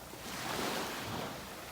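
Gentle surf washes onto the beach in North Naples, Florida, a soft, even hiss of waves with some wind, faint and steady with no talking.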